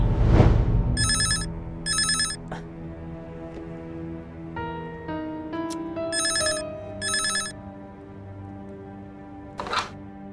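An old-style telephone bell rings in short bursts in a room during a Turkish TV film, with two pairs of rings early and two more later, over a held musical tone and no talk.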